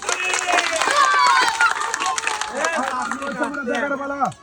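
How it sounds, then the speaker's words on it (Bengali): An audience claps loudly at a Bengali game show challenge, with dense, continuous clapping and crowd noise under a host's excited talking. "সবাই একটা জোরে তালি"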